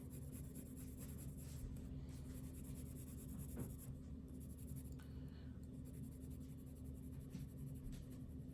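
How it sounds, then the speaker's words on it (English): A pencil shading on paper for a Bargue drawing exercise, a soft continuous scratchy rubbing heard close up over a low steady background hum. "I'm going to switch to a lighter pencil for that section."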